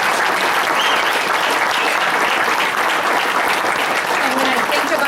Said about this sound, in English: So please give them a big round of applause for this.